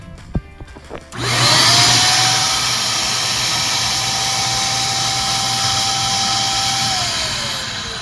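A Riccar R25 vacuum cleaner starts up with a rising whine, then runs steadily at a loud, strained pitch while pulling on a suction gauge before the tone drops slightly near the end.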